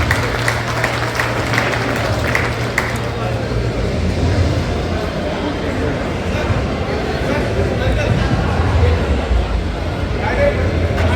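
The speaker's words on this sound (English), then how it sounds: "Please give them a big round of applause, please." An audience at a Rotary District 3150 awards ceremony applauds continuously, a loud dense patter of many hands mixed with crowd babble and a low hum, a voice speaking over it early on.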